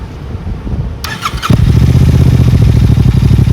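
A Royal Enfield GT650 motorcycle engine with an aftermarket SSP exhaust, db killer removed, cranks and catches, then settles into a loud, steady, throaty idle with a rapid rough pulse, close by.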